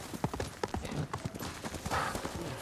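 A horse gallops in the Ghost of Tsushima video game, hooves clip-clopping in a quick uneven rhythm with sharp individual hoof strikes, moderately quiet, followed by a brief whinny-like swell near the end.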